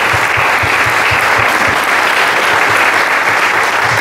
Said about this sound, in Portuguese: Vamos aplaudir assim.